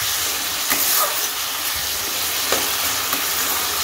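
Onions and spices fry in oil for a tadka dal, making a loud, constant sizzle with occasional stirring knocks, close up and without speech.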